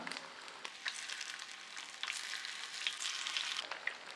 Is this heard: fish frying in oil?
yes